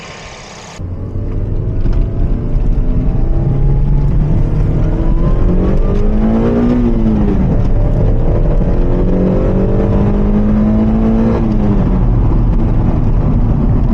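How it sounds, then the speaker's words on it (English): A Suzuki Swift engine starts right after an oil change and settles into a loud, steady idle, its hum rising and falling slightly as the revs shift. "So once you filled up the car and it's full of oil, just give it a start."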